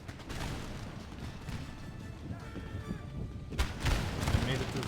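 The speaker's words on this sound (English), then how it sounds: "The fire by rank making a huge difference right now in this battle." Musket volleys fired by rank in Empire Total War crackle in a dense, continuous battle din with repeated sharp bursts, including a loud cluster of shots near the end.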